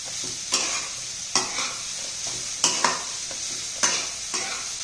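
Grated carrot sautéed in ghee for carrot halwa, a steady hiss of frying broken by periodic scraping stirs, about six strokes at an uneven rhythm, close and moderately loud with no talking.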